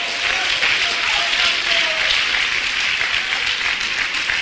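A church congregation applauding at a sermon, a dense, sustained wash of clapping from many hands, steady and loud throughout.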